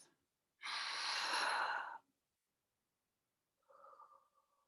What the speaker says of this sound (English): A long breath in through your nose and a long breath out through your mouth.